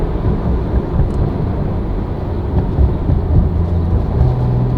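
Porsche 911 GT2 RS with an IPE exhaust and catalytic converters removed, its turbocharged engine giving a deep, steady low rumble with a whooshing turbo hiss, close and sustained.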